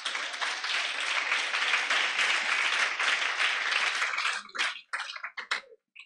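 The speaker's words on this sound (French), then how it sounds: "je vous demande de vous applaudir" Students applaud in a room, dense close clapping that holds strong for several seconds, then thins to a few scattered claps and stops.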